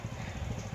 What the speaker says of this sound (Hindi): ये देखिए हमारे पीछे, तब जबकि हम एंकरिंग कर रहे हैं, एक मोटरसाइकिल प्लेटफार्म नंबर 1 पर